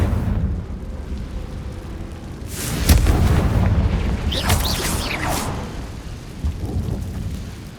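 A Confringo fire blast spell explodes in Hogwarts Legacy, landing as a sharp boom followed by a rumbling, crackling burst with a second blast trailing after, loud over a low background rumble.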